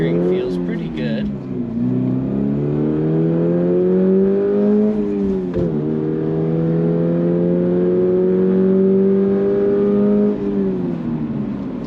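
A Toyota GR86 sports car drives on a street, its engine droning and rising in pitch through the gears from inside the cabin, with a person talking over it.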